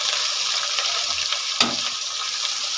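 Sliced onions sizzle and fry in hot oil for a potato and rice dish, a steady close hiss broken by one brief stirring clatter partway through.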